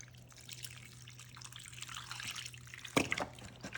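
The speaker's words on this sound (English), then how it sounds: "now we're just gonna add 4 cups of our delicious beef broth right over top here" Beef broth being poured over rice in a pot, a soft steady trickle and dribble of liquid that builds slightly, with a brief louder splash near the end, no talking.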